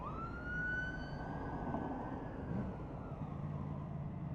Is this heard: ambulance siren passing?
yes